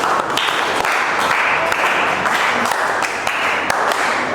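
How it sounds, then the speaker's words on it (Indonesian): A classroom of students claps together, a dense, steady burst of applause that holds at an even loudness from start to finish, close and without talk. "Boleh tepuk tangan lagi."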